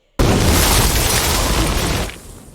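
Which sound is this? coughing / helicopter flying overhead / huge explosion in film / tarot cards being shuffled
huge explosion in film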